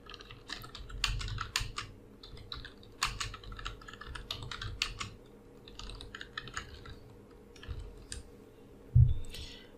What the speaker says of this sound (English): Now type whatever you want.